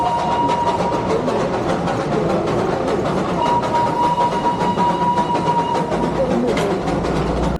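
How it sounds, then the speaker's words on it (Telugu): The Darjeeling Himalayan toy train running on its mountain railway at about 6,700 feet, a steady clatter of wheels and rumbling carriages close by, with a faint whistle-like tone. "ఎవరికి తెలుసు ఆ ట్రైన్ మీతో మీ పక్కనే ట్రావెల్ చేస్తుందని?"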